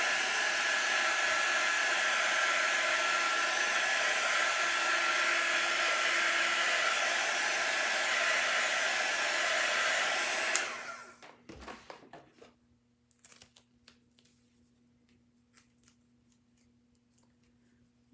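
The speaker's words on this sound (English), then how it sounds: "You can take our heat tool, our quick dry tool." A low-temperature quick-dry heat tool blows a loud, steady, close whirring roar over chalk silk screens for about ten seconds, then shuts off and winds down, leaving light handling clicks and near silence.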